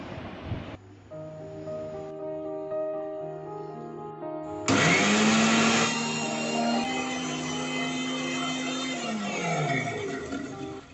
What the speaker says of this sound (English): So for this I need a mixer grinder.